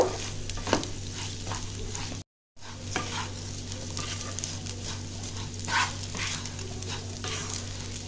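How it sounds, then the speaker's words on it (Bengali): Soft, steady frying hiss of rice in a pan for pulao, with a low hum underneath and occasional scraping stirs, close by; a brief dropout interrupts it partway. "চালটা প্রায় আমার ভাজা হয়ে এসছে।"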